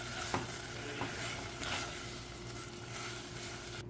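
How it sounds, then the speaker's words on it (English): Blueberries cooking in a pan for blintz filling, stirred continuously: a steady close sizzle and bubbling with soft scraping strokes throughout, no voices. "we are going to add 1 more cup of blueberries, and we are going to cook and stir for 1 more minute."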